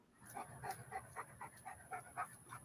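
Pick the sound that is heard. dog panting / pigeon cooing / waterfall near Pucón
dog panting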